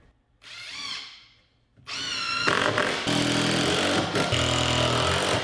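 A power drill drives 2.5-inch Power Pro screws into wood while a chicken coop is built. After a short whir there is a brief pause, then a sustained loud high-pitched motor whine runs to the end.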